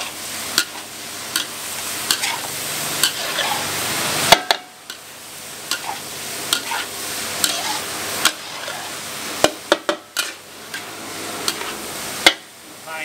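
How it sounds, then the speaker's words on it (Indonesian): Baby corn and meatballs stir-fried in a large wok for a big batch, a steady sizzle broken by repeated sharp scrapes and clanks of a spatula against the metal, close and fairly loud with no voices. "Ini kita tumis dulu biar wangi."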